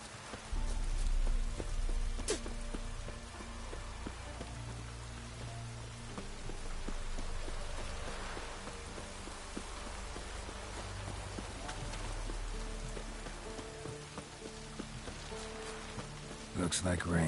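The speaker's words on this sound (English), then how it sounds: "Looks like rain." Rain falling in the video game The Witcher 3, a soft continuous patter in the background with occasional hoofbeats and spoken dialogue over it.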